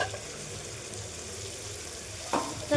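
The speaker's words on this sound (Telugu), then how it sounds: "కొద్దిసేపు ఫ్రై అయిన తర్వాత టమాటా, క్యాప్సికమ్," Tomato, capsicum and potato fry in a pan for godi rice, giving a soft, steady sizzle close by, with a brief stirring clatter toward the end.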